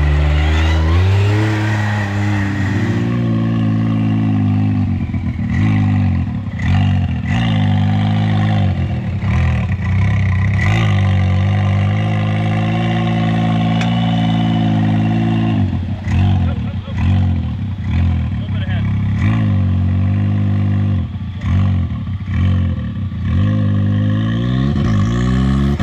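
Can-Am Maverick X3 side-by-side, tuned to Evo Super Stage 6 and running on E85, revs hard and launches, its loud engine roaring with rising and falling harmonics for most of the stretch, while voices talk over it.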